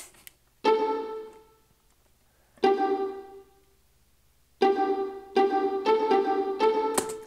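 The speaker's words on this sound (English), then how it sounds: "pizzicata sounds like this." Plucked pizzicato strings in a subtle arrangement: isolated notes sounding at intervals, then a quicker run of several plucks near the end, each with a clear sharp onset and short ringing decay.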